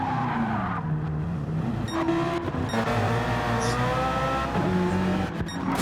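GT3 race car in a wet Nürburgring 24-hour race in a racing game, engine revving and shifting pitch while tires skid and squeal as it slides onto grass, loud and close with no talking.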